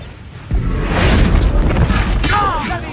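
Bombarda spell explosion in Hogwarts Legacy, a loud booming blast with shattering debris that swells at about half a second and rumbles on, with a brief crackling burst near the end.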